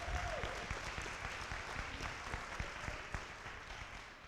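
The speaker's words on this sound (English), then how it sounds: "Give him a big round of applause." Applause from the audience at a graduation ceremony for an academy, many hands clapping in a sustained roomy patter with a few sharper individual claps standing out, gradually easing off toward the end.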